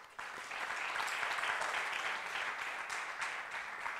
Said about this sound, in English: Please, ladies, applaud her.